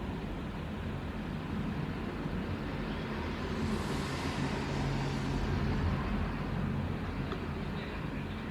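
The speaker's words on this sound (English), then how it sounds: "maybe you can hear cars driving by or trees in the wind" Cars drive by outdoors beyond an open window, a faint, steady wash of traffic noise with a gentle swell as one vehicle passes in the middle, and no voices.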